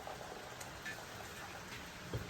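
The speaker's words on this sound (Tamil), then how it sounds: "எங்க ஊர்ல நல்ல மழை பெஞ்சிட்டு இருக்கு" Steady rain falls outdoors, a soft continuous patter with scattered faint drip ticks, low and even throughout with no voices.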